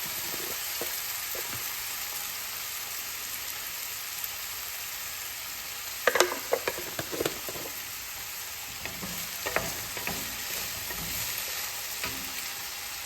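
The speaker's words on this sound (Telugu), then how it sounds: "ఇలాగే సన్నపు సెగ మీద వేపుకుంటాను." Raw banana pieces with turmeric fry gently in a pan over a low flame, a soft steady sizzle with faint crackles and a few light scraping stirs partway through.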